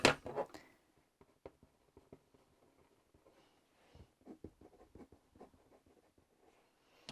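Pen or pencil scratches and taps on paper among gouache and mixed media art supplies, soft intermittent strokes in a quiet room, with a louder rustle at the start and a busier cluster later.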